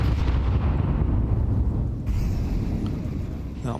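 Grenades going off in a Counter-Strike match at a major tournament, a dense rolling stack of low booming blasts that blur together continuously, with a sharper break near the middle.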